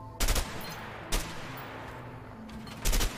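Three loud, sharp gunshots in a video game, spaced about a second or more apart, close and punchy over a quiet background with no talk.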